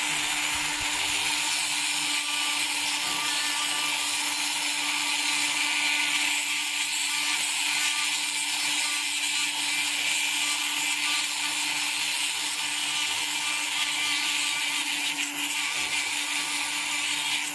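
A rotary tool fitted with a small burr grinds into sapphire, producing a sustained, high-pitched motor whine with a gritty grinding edge, steady and close, with no talking.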